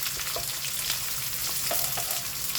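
Plenty of onion and garlic sautéing in a pan for an ampalaya dish, an even, loud hiss of frying with a few light stirring clicks, steady throughout and free of talk.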